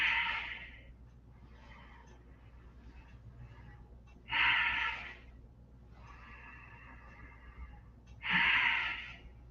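Three deep, forceful exhalations come at roughly four-second intervals during a seated breathing exercise, each a loud, breathy rush with quieter breathing in between.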